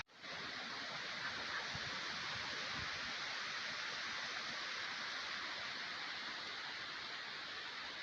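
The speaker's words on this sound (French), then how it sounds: "il pleut un petit peu" Light rain falls on a forest walk beside a pond in the Oise, France. It makes a soft, steady, even hiss that continues unbroken with no one speaking.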